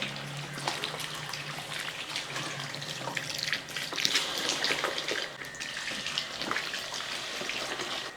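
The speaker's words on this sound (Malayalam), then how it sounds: "അപ്പം നമുക്ക് കുറച്ച് വിനാഗിരി അങ്ങോട്ട് ഒഴിച്ചു കൊടുക്കും" Vinegar poured into a large batch of loobikka pickle, a steady splashing liquid stream lasting several seconds, soft and close, with no talk.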